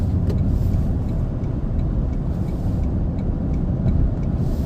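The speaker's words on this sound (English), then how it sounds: "you floor this truck, you really feel it accelerate quickly. And you can hear it too" Hard acceleration in a 2024 Tundra truck, a loud, steady engine roar with deep low rumble filling the cabin throughout, no talking.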